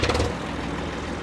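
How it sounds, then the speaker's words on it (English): An all-original 1992 Case IH 495 farm utility tractor engine fires up with a loud, rough burst, then quickly settles into a steady, close diesel rumble. "So I'm gonna fire a tractor up right now."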